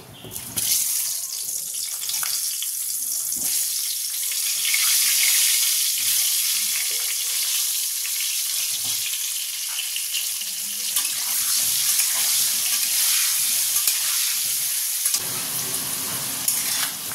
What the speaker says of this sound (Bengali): অল্প একটু নুন আর অল্প সামান্য হলুদ এটা দিয়ে ভাজবো আলুটা